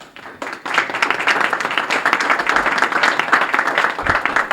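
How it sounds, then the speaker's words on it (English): Dense audience clapping fills the space after a speaker is introduced at a legislative forum, starting with a few scattered claps and swelling into steady, loud applause from a crowd. "That's canned applause from an old episode of I Love Lucy."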